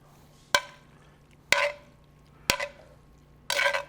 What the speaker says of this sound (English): Just move it around in the pan